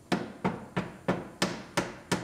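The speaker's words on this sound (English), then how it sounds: "We'll hammer our seam a little flatter." Seven evenly spaced hammer blows strike a sheet metal seam on a Lexus IS 250 body under collision repair, at a steady rhythm, close and moderately loud, with no talking.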